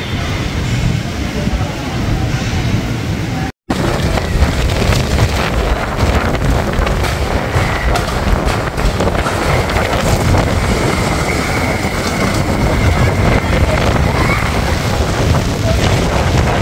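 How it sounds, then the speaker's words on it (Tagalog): Strong typhoon wind in Makati roars in a constant, heavy buffeting across the microphone, loud and unbroken apart from a brief cut near the start. "sobrang lakas ng hangin, yung lamppost natumba"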